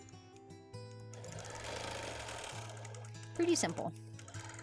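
A sewing machine stitching in the ditch on a classic red and white quilt, a close steady mechanical hum with a rapid needle rhythm that pauses and restarts, and someone speaks briefly near the end.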